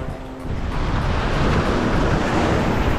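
Ocean swells surge and wash onto the shore in a steady, loud roar of surf, mixed with rumbling wind buffeting the microphone, with no voices.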